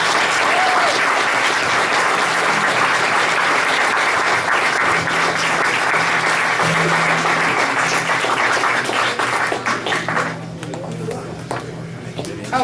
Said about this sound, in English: Please join me in a round of applause for both of our candidates today.